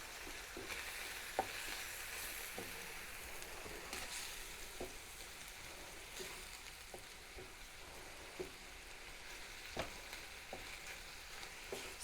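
Minced meat frying in a pan while being stirred for cottage pie, a steady close sizzle with soft scraping and occasional clicks of the utensil against the pan, no talking.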